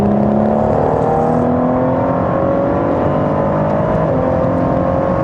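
A car accelerating hard around Donington Park racetrack while chasing a LaFerrari and an F50, its engine loud and close with a steady rising whine and a brief dip as it shifts.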